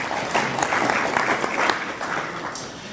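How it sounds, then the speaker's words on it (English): A round of applause from an audience at a healthcare executives' education event at a hospital, sustained, even and moderately loud for the whole stretch. "A round of applause."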